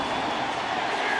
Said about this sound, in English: I know the crowd gets loud, but they play in front of loud crowds all the time.